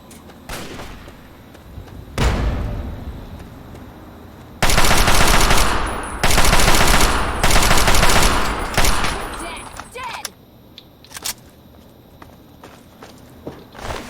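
Automatic assault rifle fire in the Fallout 3 video game, set in the capital wasteland: a single early shot, then several long loud sustained bursts close by, separated by short pauses, ending in a few isolated shots.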